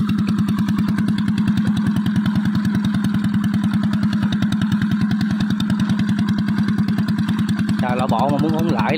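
A farmer's homemade row seeding machine runs with a steady, fast-chugging small engine rumble, close and loud throughout, with a brief voice near the end.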